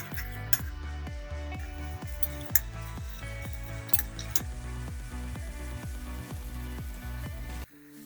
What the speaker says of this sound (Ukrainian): Смажу часник до появи характерного чесникового запаху